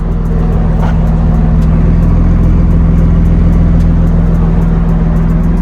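A BMW E36 engine idling nearby, a loud, steady low hum with a constant drone and faint rhythmic ticking above it, no voices heard.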